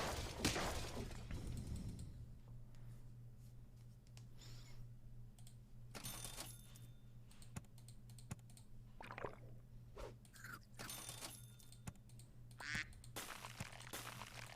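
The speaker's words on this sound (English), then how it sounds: "Quack." A short cartoon duck quack from the Super Auto Pets video game sounds among soft keyboard and mouse clicks and scattered game effects over a low steady hum.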